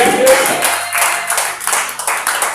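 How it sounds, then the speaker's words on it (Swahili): A church congregation claps for the Lord Jesus in a quick burst of hand claps. The clapping is fairly loud and uneven, and voices are mixed in with it. "Chapia Bwana Yesu makofi."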